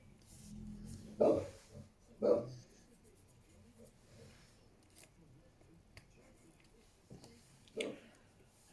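Dog indoors giving a few short, sharp barks spaced apart, faint and somewhat distant, with low whimpering in between and quiet room sound.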